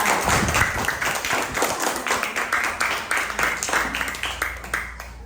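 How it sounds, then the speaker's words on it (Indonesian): Classroom applause for a student group, a burst of many hands clapping in a quick, uneven patter that stays loud for several seconds, then begins to thin toward the end. "beri aplaus dulu untuk kelompok 3"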